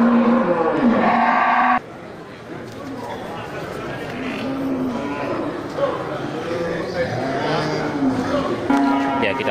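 Aceh cattle ready for slaughter at a livestock market, lowing in loud drawn-out moos near the microphone, with people talking and chattering around them.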